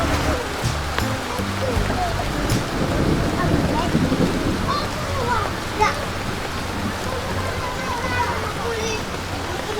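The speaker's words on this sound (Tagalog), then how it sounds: "umuulan na po, no? Pisa naman po yung ulan dito" Steady rain pours down outdoors on a mountainside, a dense, constant hiss with occasional louder drips and distant rumbles, while people talk underneath.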